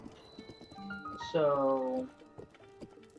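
Horse hooves clip-clop in Zelda Breath of the Wild, a short run of steps beneath game music, with a bright tonal jingle swelling in the middle and a voice briefly speaking.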